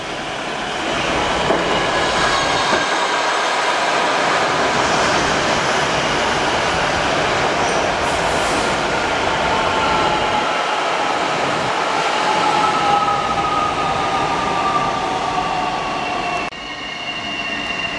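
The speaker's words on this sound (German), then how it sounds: "Da kommt jetzt ein DB Regio Hamster als RE7 nach Wünsdorf-Wallstadt." A DB Regio RE7 regional train rolls past close by on the Berlin Stadtbahn with a steady heavy rumble, wheels clacking and faint squeals over the rails throughout.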